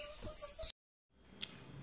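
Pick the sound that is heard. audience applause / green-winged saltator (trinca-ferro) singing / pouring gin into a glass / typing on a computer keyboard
green-winged saltator (trinca-ferro) singing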